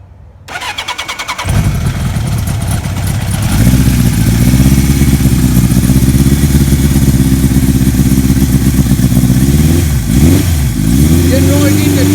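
A 1978 Kawasaki KZ1000 motorcycle cranks and fires, then settles into a loud, steady idle close by, with a brief blip of revs near the end.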